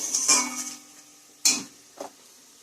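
Spice paste sautéed and stirred in a metal pan for a Bengali home-cooked dish, giving a soft sizzle and three distinct scraping, clinking strokes of a spoon against the pan, with no voices.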